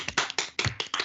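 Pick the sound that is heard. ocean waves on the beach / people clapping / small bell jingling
people clapping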